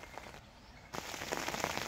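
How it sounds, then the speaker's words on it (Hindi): Rain patters on the leaves of a mango tree in a village near Karachi, soft and faint at first, then after a brief hush returning as a denser scatter of drops. "ये आम का दरख्त है, इस पर बारिश लग रही है जैसे कि अभी आवाज़ सुनते हैं"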